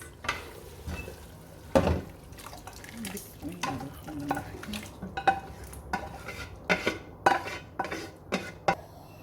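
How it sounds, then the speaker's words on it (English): A spoon clatters and scrapes against a cooking pot as meat is worked into lentils for haleem, with irregular knocks and stirring strokes over a faint background sizzle. "I'm going to mix this meat with the lentil."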